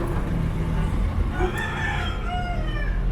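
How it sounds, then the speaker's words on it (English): A rooster crows in the middle distance over a steady outdoor rumble, with some clucking around it. "These roosters hanging out here."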